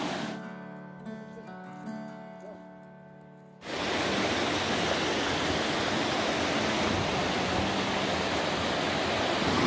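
A powerful mountain river and waterfall on Stara planina roar as a dense, steady rush of water, loud and close, after a few seconds of quieter outdoor sound with faint voices.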